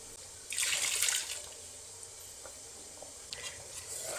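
Water poured from a vessel onto ground masala in a pan for a Tulu-style prawn dish, a short splashing pour followed by faint stirring clinks, fairly quiet, no voices.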